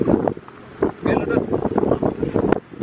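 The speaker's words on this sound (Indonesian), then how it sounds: "angin, nih." Gusty wind buffets the microphone aboard a boat on its first trial run, coming in uneven rushes while people talk intermittently nearby.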